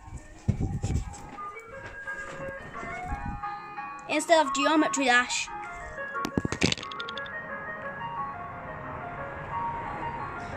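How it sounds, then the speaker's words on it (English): An ice cream truck's melodic jingle plays faintly in the background, a thin repeating tune beneath nearby child speech and bursts of game sound effects. "Oh, ice cream truck."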